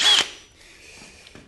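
Power drill boring through a Blazer door, a short loud whining burst at the start that drops away into a faint lingering hum, close up with no talking.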